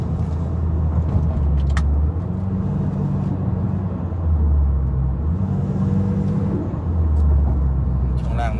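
A Honda Accord G8 fitted with a turbo cruises along, its engine drone and deep road rumble holding steady and loud throughout, with the low engine note rising and falling slightly.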